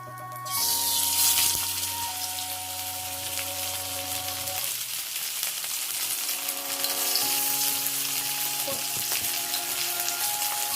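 Masala-coated fish sizzles and crackles in hot oil, a loud continuous hiss close up, while sustained musical tones play underneath.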